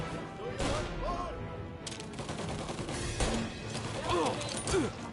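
Tommy gun fire in Mafia Definitive Edition, a 1930s gangster shooter: bursts of automatic shots with clattering impacts amid a chaotic firefight, voices shouting over the mix at moderate distance.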